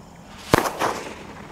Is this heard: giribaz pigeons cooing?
no